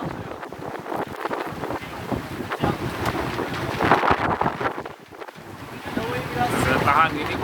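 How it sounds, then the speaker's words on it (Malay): Strong gusting wind buffeting a microphone aboard a sailing boat at sea on a long voyage, loud and rough with rushing water beneath, while someone talks throughout. "Angin kencang"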